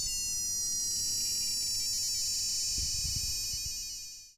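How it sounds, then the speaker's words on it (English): A LEGO toy sound brick meant as a police siren, its battery dying, gives a thin, high, warbling electronic tone that drones steadily, with a few low knocks near the end before it fades out. "I assume that it's meant to be like a police car siren"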